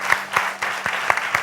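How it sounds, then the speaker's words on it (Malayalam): A live audience at a Malayalam comedy stage show gives a burst of applause, with scattered, uneven claps sounding close and fairly loud over a short stretch. "നമുക്കൊരു വലിയ കൈയടി കൊടുക്കാം അല്ലേ,"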